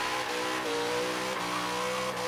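A Chevy Nova Zinger with upgraded cams screaming at very high RPM in Forza Horizon 3, a loud, sustained engine howl with pitch shifting between gears, close and continuous.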